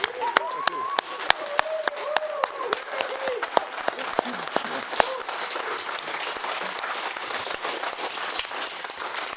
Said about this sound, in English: the clapping sounds weird